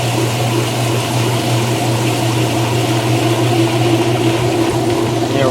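A Kenmore 80 Series washing machine pumping out water during a test cycle, a steady hum from the drain pump with gurgling, rushing water, close and continuous.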